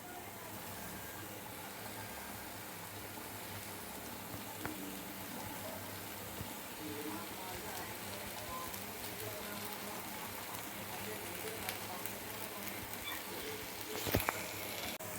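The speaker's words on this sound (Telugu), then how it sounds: "చూడండి, మసాలా అనేది బాగా ఫ్రై అవుతుంది" Masala spice paste fries in oil for a stuffed brinjal (gutti vankaya) curry, a steady, rain-like crackle and sputter that continues unbroken, with a brief sharper pop near the end.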